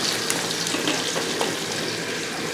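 Thinly sliced onions fry with ginger and garlic in a pan for chicken rice, giving a steady close sizzle with bright crackling and no voices.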